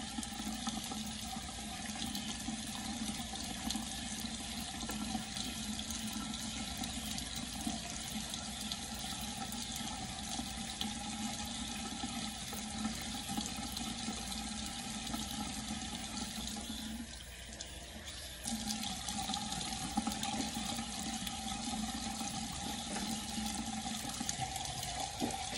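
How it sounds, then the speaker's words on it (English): Tap water runs steadily into a sink to wet a washcloth, a continuous close hiss and splash with a brief dip in flow partway through. "Then I'm going to wet the washcloth."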